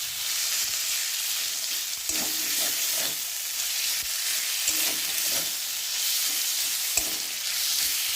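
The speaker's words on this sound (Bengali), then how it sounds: "টমেটোর সাথে মশলাটা একটু ভালো করে ভেজে নেব" Masala fries with tomato, turmeric and salt in a pan, a steady close hiss and sizzle broken by soft scraping stir strokes, with no talk.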